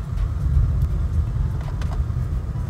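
A car steering itself along a road with a driver-assist system engaged, its steady low road and engine rumble continuous and close, with a few faint clicks above.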